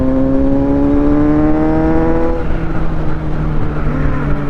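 A 2024 Kawasaki Z900 motorcycle engine revs loudly and close by, holding a steady high buzzing tone that then drops in pitch and settles into a rougher, lower rumble.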